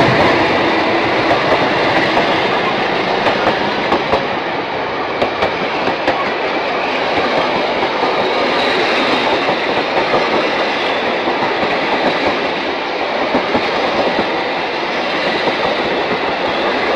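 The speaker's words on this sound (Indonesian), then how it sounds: "video kereta api Cirebon Express" A Cirebon Express passenger train passes close by with loud, continuous rolling rumble and clattering wheels on rails, with no talking.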